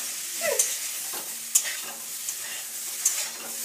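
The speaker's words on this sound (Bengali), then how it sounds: "এটা এবার ভেজে নিই ভালো করে।" Small shrimp fry in hot oil in a pan, a steady low sizzle broken by a few light clinks and scrapes of a stirring utensil, close and without speech.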